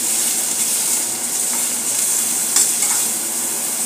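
Onion sautéing in a pan for dum aloo gravy: a loud, continuous close sizzle with soft stirring scrapes running through it, and no talking.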